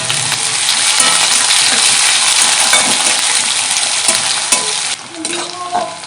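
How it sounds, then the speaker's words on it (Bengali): Chopped onions frying in a pan with dried red chilli, cinnamon, cloves, cardamom and whole cumin, a loud dense sizzle with stirring scrapes, dropping off toward the end into lighter clinks. "পেঁয়াজ ভাজা হয়ে গেছে।"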